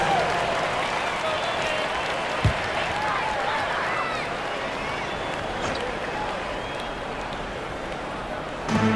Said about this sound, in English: Get yourself a round of applause